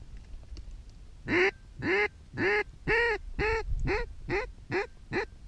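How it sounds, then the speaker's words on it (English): Diving ducks in a snowstorm give about nine loud, close quacks in a rhythmic series, with no talking over them. "These are big ducks."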